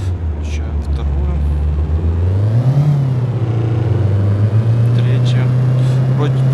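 Toyota Avalon accelerating in second gear in the City Car Driving game, a loud, steady engine drone whose pitch climbs and then holds, with someone talking over it.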